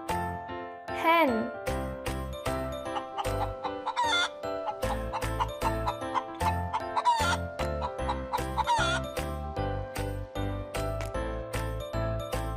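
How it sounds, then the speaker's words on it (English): A hen clucking in repeated short calls over a bouncy music track, with a voice speaking along. "Hen."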